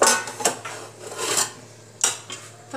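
A metal lid scraping and clattering onto a pot of veg biryani: several close, bright clanks and scrapes in quick succession, loud and without talk.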